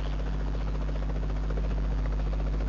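Aircraft engine drone in the PUBG Mobile battle royale game, a steady low propeller hum with a buzzing tone that holds at constant loudness, heard alone with no talking.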